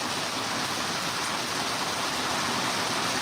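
Heavy rain pours down outdoors near a viaduct, a dense, steady hiss that fills the whole stretch without pauses, loud and close, with no voices.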